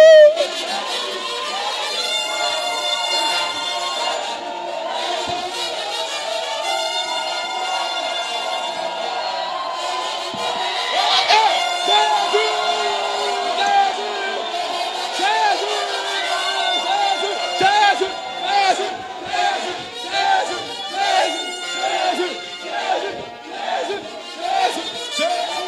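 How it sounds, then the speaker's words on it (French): A church congregation raises joyful shouts and cheers together, a dense crowd roar that swells and pulses rhythmically over music, building into repeated surging bursts toward the end. "On pousse des cris de joie."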